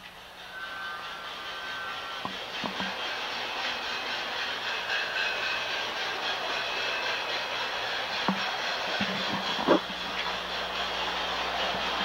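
An LGB garden-scale model train running through an automatic two-track yard, a quiet steady rolling rumble with faint hiss, occasional clicks and clunks from track switching, and a soft high tone early on.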